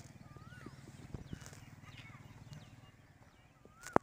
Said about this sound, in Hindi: हैदर अली घोड़े पर सवार हो गया जी